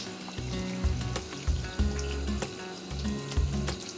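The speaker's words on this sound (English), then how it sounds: "a little bit more water." Tap water runs steadily into a pot of vegetable soup with squash, a continuous close rushing stream with a few splashy bumps, heard alone.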